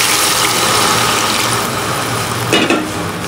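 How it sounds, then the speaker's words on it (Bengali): Gravy is poured into a hot cooking pan of long-simmered curry, a loud close rush of liquid over dense sizzling, briefly swelling before easing off. "তো এখন এখানে ঝোলটা দিয়ে দিব"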